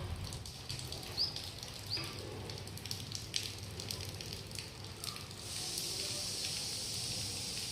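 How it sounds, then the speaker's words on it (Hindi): Steady morning rain patters and hisses softly outdoors, a fine continuous wash of drops that grows slightly denser toward the end, with no talk over it. "बारिश हो रहा है दोस्तों।"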